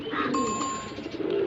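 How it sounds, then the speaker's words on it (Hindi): A Punjabi pigeon gives a soft, low, rounded coo, close and clear, lasting about a second over a steady background hum, with a thin faint tone above it. "तो भाई ये मेरा पंजाबी कबूतर है"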